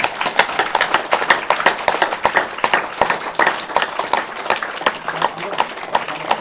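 A group at a meditation session claps hard together, a dense, steady patter of sharp hand claps running throughout at close range with no pause.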